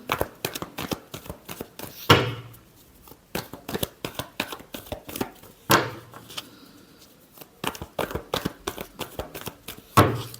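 Tarot cards are shuffled by hand in a rapid series of crisp riffling bursts and sharp taps, close and fairly loud, with short pauses between shuffles.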